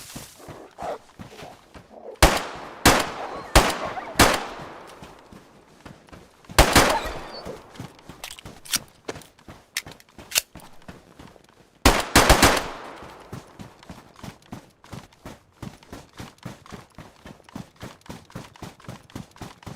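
Gunshots ring out in DayZ in sharp clusters of rapid, loud cracks, with pauses between volleys and fainter distant shots scattered throughout.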